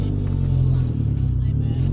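A Mitsubishi Evo X with a big turbo and a Tomei exhaust drones loudly nearby, a steady deep rumble with no talking over it.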